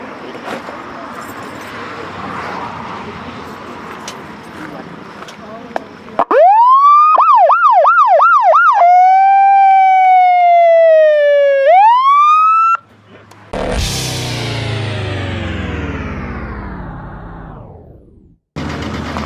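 Loud vehicle siren blares close up, cycling through a fast yelp, a long rising-falling wail, then a different wind-down tone; no talking over it.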